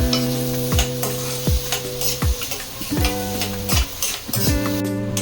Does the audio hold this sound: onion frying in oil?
yes